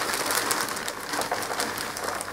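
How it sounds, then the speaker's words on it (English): Continuous soft rustling and hissing of loose, dry paper bedding being poured into a hamster cage, steady throughout with faint scattered pattering. "now I'm going to pour all the bedding in."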